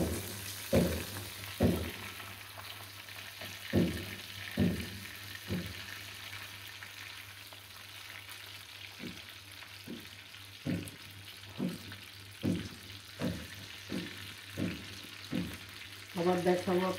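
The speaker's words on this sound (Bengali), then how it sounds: "মাছটা একটু ভাজা হোক, আবার দেখাবো ভাজা হওয়ার পর।" A large sea poa fish fries in a pan, a low steady sizzle of oil under repeated soft knocks and scrapes from turning and handling, fairly quiet and close, with no speech.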